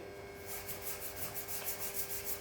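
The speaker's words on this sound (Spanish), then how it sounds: "avanzan con la lija 180" Sandpaper of 180 grit rubbing across a surface being prepared before filler, a steady scratchy hiss with a gentle back-and-forth rhythm, close and fairly quiet, no voices.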